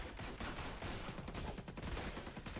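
Punisher firing his guns in the video game Marvel Heroes Omega, a dense, steady stream of rapid gunshots with crackling, fusillade-like bursts running the whole time at a constant loud level.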